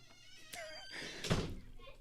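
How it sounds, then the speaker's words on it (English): A door being shut gives a dull thunk partway through, close by and fairly quiet, with voices and room noise around it. "Shut the door, please."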